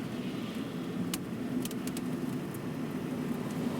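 Steady engine hum and road noise from cars rolling into a ski area parking lot in New Hampshire in winter, heard from inside a moving vehicle, with a few brief jingling clicks over the constant drone.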